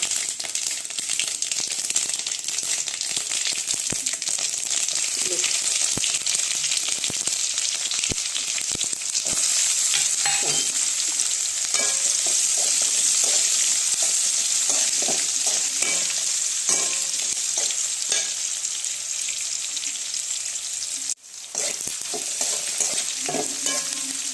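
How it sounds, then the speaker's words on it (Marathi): Cumin, mustard seeds and chana dal crackle and sizzle steadily in hot oil in a kadhai, a dense continuous frying hiss with scattered pops and stirring clicks throughout, close and loud, with one brief dip near the end. "तेल तापले बऱ्यापैकी जिरी मोहरी हरभऱ्याचे डाळ"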